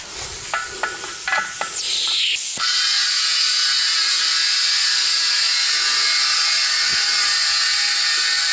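An air starter turns over a Ford Cargo diesel truck engine. A quick run of mechanical clicks gives way to a loud, continuous rushing hiss with a whining tone, and the engine does not fire.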